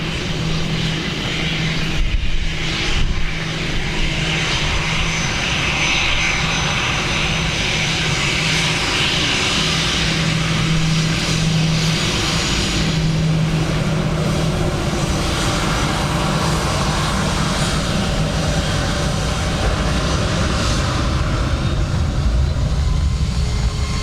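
Airliner arriving on runway 28 left at Dublin Airport on a wet day, a loud continuous jet engine roar heard from a distance, steady throughout with a slight rumble.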